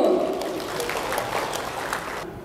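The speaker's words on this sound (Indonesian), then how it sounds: "Tepuk tangan Bapak Ibu." Audience applause at a community waste-management gathering in Jakarta, a dense steady wash of many clapping hands at moderate distance, fading slightly toward the end.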